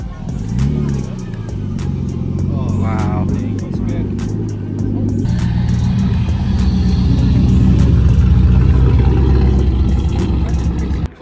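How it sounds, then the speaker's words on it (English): A Nissan Skyline R34's engine rumbles loudly nearby at a car show, then revs up as the car pulls away, its deep roar building over several seconds. "Check out the R34 that's leaving."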